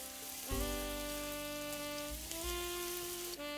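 Pieces of bread dropped into hot olive oil in a small frying pan burst into a loud sizzle that holds steady, with a brief clatter at the start and another shift near the end.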